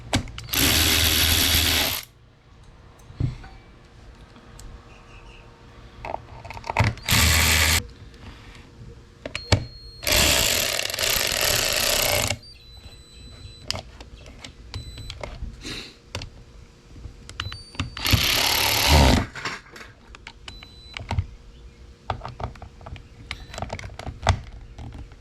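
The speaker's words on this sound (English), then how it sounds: "Let's get these 3 screws back in" Screws being driven back into a Harley-Davidson Touring gauge mount during a Dakota Digital install, small ratcheting clicks and taps near and moderately loud, broken by long bursts of loud outdoor lawn-work noise.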